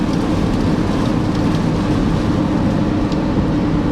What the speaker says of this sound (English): So, as you can see, it is raining